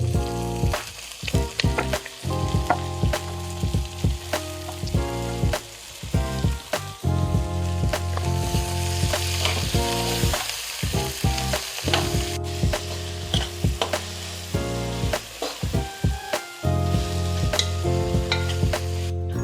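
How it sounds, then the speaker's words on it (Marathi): Tomatoes frying on a low flame for egg rice, a constant sizzle broken by frequent rhythmic scraping and clanking of a spatula stirring in the pan, close and fairly loud, no voices. "आपण 5 ते 6 मिनिटं मंद आचेवरती टोमॅटो भाजून घेतलेला आहे"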